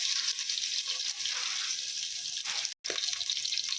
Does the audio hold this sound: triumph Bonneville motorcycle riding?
no